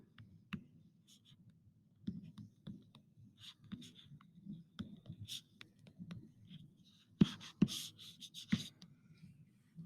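Pen or pencil handwriting a math answer on paper, close and quiet, with steady scratchy strokes and small taps, a few sharper marks near the end, alone without talk.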